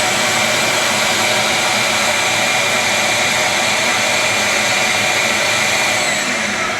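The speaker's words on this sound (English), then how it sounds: "I'm just going to turn on my vacuum cleaner down here very quickly just to see what it shoots up to." A household vacuum cleaner runs loud and continuous, a steady whooshing motor roar held without pause from start to finish, close by and with no talk.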